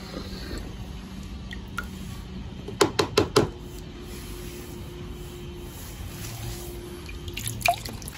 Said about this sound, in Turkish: Diğer kısımlarını birkaç kere yıkayıp tamamen tertemiz su olana kadar işlemden geçireceğiz.